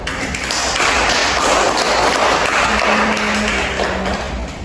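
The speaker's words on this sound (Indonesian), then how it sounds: "Mari kita beri tepuk tangan untuk kita semua." A class applauds together at the end of an Islamic history lesson in a classroom: loud, continuous clapping from many hands close by, holding steady for several seconds with a faint tone underneath.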